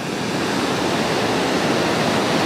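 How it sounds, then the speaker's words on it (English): Steady ocean surf on Pismo Beach, a continuous broad hiss of breaking waves with no clear gaps, close and fairly loud throughout. "continuing to walk down along the ocean"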